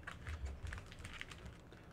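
Magic: The Gathering trading cards are shuffled by hand in two stacks, making soft close riffling and rapid light clicking patters at a quiet level.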